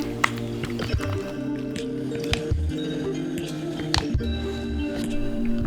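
Alginate mould material being mixed by hand, wet squishing and squelching with soft irregular clicks and stirring strokes, close and fairly quiet against a faint background hum.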